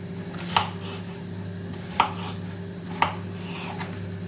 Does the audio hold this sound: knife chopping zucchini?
yes